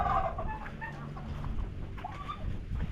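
Native chickens clucking nearby on a small farm, a busy overlapping run of clucks and soft calls that continues through the whole moment.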